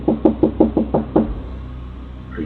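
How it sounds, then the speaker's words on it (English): A man knocks on a front door, seven rapid loud raps in quick steady succession, followed by a pause and faint background sound, captured with a narrow, tinny quality. "The man rings the doorbell and knocks many times"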